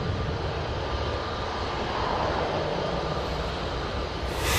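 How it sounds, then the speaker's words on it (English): A Jet2 airliner at Manchester Airport, operated by ETF Airways and bound for Dubrovnik, spools up its engines into a dense, steady roar that stays loud throughout. "There's Jet 2, you just heard spool up."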